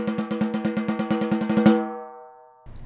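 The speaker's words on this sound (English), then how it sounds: "The edge produces a thin, more resonant tone like this." Snare drum struck near the edge of the head, giving a thin, ringing tone: about eighteen quick, even strokes played alone, then a sustained resonant ring that decays before a brief faint noise.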